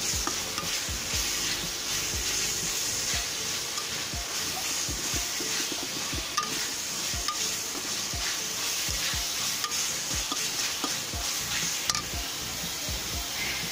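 Spices for a chicken curry sizzle steadily in a hot pan while being stirred, a continuous frying hiss broken by repeated scraping strokes of the spoon, close and alone with no talking.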